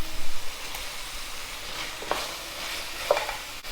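Chopped tomato drops into a pan of hot frying onion masala, giving a continuous close sizzle and hiss with a few sharper crackles and stirring scrapes, no talking.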